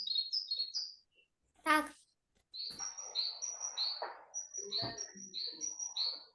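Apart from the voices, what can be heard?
tit bird singing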